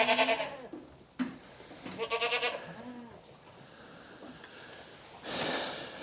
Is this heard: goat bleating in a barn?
yes